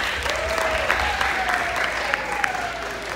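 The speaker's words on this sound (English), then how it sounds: "I think we owe your parents a round of applause" An audience applauds the players' parents at a girls' basketball banquet, a steady wash of clapping that holds at a constant level throughout, with a faint voice gliding underneath.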